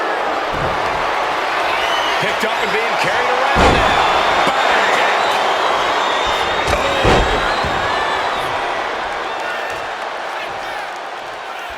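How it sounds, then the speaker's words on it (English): Arena crowd in the WWE 2K26 wrestling video game cheers loudly and continuously, with heavy slam thuds punctuating the roar and a commentator talking over it. "Chelsea is revving this crowd up"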